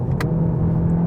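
A 2018 Volkswagen Arteon's turbocharged four-cylinder drones steadily under acceleration, a brief close engine note with a couple of faint high clicks on top.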